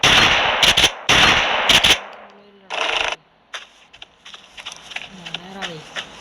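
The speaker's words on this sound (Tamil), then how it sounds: "ஒரே புல்லட் சுட்டாங்க" GTA Online gameplay with bursts of rapid automatic gunfire, loud and dense, in several clusters early on, then sparser single shots and game effects while a voice talks over it.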